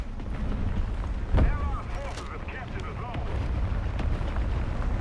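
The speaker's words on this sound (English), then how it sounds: "Let's wait for the bomb to explode. That's a big explosion." A large bomb explosion goes off in War Thunder Mobile during a tank battle, a single heavy boom rising over a steady roar of battle noise while a voice talks throughout.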